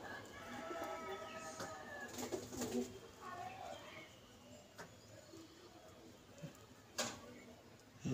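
Pigeons of a pair kept at home coo softly in intermittent low murmurs, with a few sharper bird calls and bumps close by.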